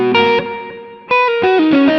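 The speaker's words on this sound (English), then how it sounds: "Let's go Hall, I always like Hall reverb." Electric guitar notes and chords from a GTRS S801 guitar, processed with a hall reverb effect, ring out with a long lush tail. Two separate strums or phrases swell up, with a decaying sustain between them.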